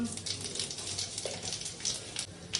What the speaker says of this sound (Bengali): এটা বসিয়ে দেওয়ার জন্য ফোড়ন দেব, তেজপাতা, পাঁচ ফোড়ন